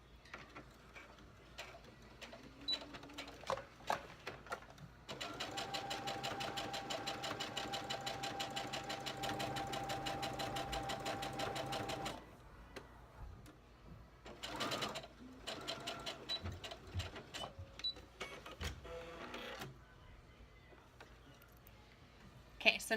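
A sewing machine stitches down the seam of an exposed zipper, a fast, even mechanical chatter that runs for about seven seconds, with short bursts of stitching before and after, close and clear.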